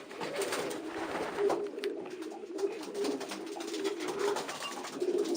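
Domestic pigeons, a group of similar-looking show birds, coo repeatedly in a steady, overlapping murmur, with soft low calls recurring close by throughout.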